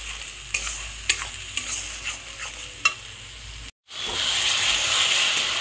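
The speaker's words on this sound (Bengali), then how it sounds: "ততক্ষণ মশলাটাকে ভালো করে কষিয়ে যেতে হবে।" Spice masala for egg curry frying in oil in a pan, soft sizzling with sharp intermittent scrapes of stirring, then a brief gap and a steadier, louder hiss.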